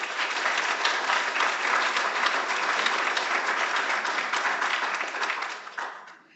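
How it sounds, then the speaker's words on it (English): A seated audience at a sea level rise symposium session applauds a speaker, steady dense clapping that holds for several seconds and then fades out. "Everybody, a round of applause for Brian's."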